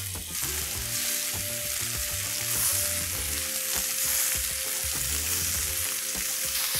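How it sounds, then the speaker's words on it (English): Continuous sizzling of chicken pieces frying in medium-hot oil for butter chicken, a steady crackling hiss close up, with soft clinks and a faint tonal hum underneath. "Now that the oil is medium hot, let's start frying these chicken pieces."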